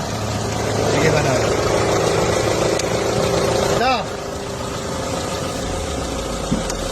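A car engine idling in a garage after a check of its cylinder head gasket, a steady mid-pitched drone with a brief tonal sweep near the end of the fourth second and people talking over it.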